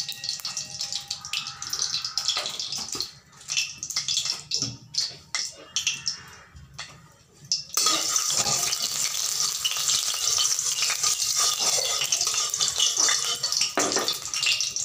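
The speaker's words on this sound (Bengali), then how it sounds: "তরকার ডাল বানানোর জন্য আমি কড়াই বসিয়ে দিয়েছি, গরম হয়ে গেছে। এখন আমি দিয়ে দিচ্ছি তেল।" Hot oil poured into a heated kadai for tadka dal, first a few soft crackles and stirring knocks, then a sudden steady sizzle that fills the second half, close and fairly loud.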